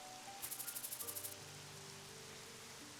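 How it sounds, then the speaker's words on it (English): Soft, steady rain falls in the video game Troubleshooter, a faint even patter under a quiet low musical drone, with a brief run of rapid ticking clicks near the start. "only the sound of rain remained,"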